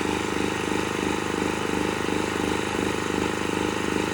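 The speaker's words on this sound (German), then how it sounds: "Jetzt läuft sie. Das höre ich an dem Motor." A small engine runs steadily at an even idle, a loud, continuous rhythmic chugging with no pauses or voices.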